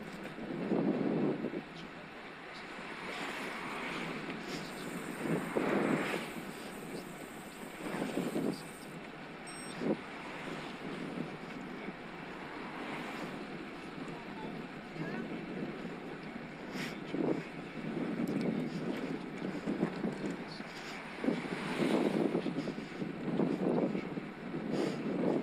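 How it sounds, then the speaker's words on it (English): A strong headwind buffets the microphone while riding a Scott Addict RC road bike, with loud gusty rumbles rising and falling in repeated surges over steady rushing wind noise. "Strong headwind I've got here, coming from my right"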